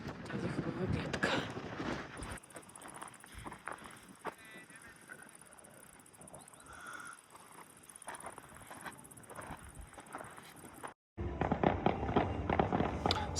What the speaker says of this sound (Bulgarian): Специална заря по случай рождения ден на Аня.